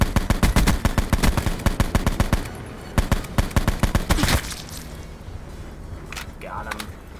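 Rapid bursts of automatic gunfire in the Call of Duty: Blackout video game, loud sharp shots in quick rhythm for about four seconds, then quieter game ambience with faint sounds.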